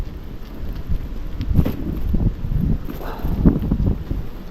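Gusty wind at a fishing spot on an overcast, rainy day buffets the microphone with low rumbling bursts and rustling, rising and falling throughout, with no speech.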